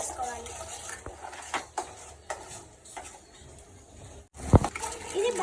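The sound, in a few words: stirring egg chicken fried rice in a pan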